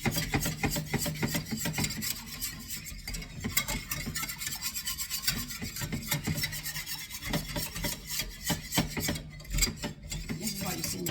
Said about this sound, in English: This is why you see me stirring around and around and around.